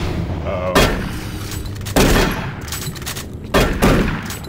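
Repeated gunfire from Doom 3 in co-op play: three sharp, loud blasts spaced about a second apart, each with a short rumbling tail over a steady game background.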